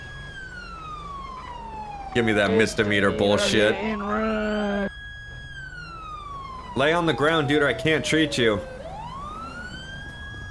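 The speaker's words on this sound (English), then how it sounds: "I gotta turn off my siren. It's still running on for me." A police car siren wails continuously through the scene, its steady tone sweeping down and back up, while people shout and talk loudly over it in two bursts at a roadside incident.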